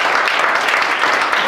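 Church congregation applauding during a sermon, a dense, steady wash of clapping that fills the short moment at even loudness.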